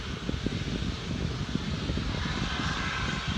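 A Sikorsky S-92 helicopter's turbine engines roar steadily during a static ground run-up, a loud, close, continuous drone with a rapid low pulsing throb underneath.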